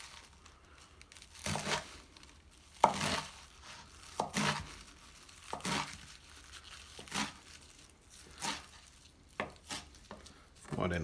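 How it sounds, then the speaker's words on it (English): Rolled spinach leaves are sliced thinly with a knife, about a dozen separate crisp chops knocking on a board at a slow, uneven pace, close and clear. "Just going to roll up the rest of it. Just slice it thin."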